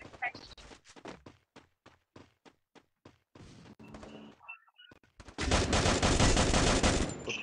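Rapid bursts of video game gunfire, a string of sharp shots in quick rhythm, then a brief pause before a loud, dense stretch of continuous firing.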